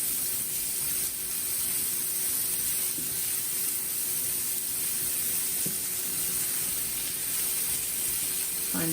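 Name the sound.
cranberry relish stirred and cooking in a pan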